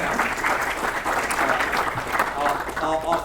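Sustained, dense applause from a seated audience at a university energy symposium on plastics and chemicals, steady clapping filling the hall for the panel speakers, with faint murmuring mixed in.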